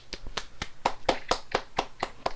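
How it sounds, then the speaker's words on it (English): Close hand clapping in a steady rhythm, about ten sharp, distinct claps in a row with brief gaps between them and no talking. "Clap it up."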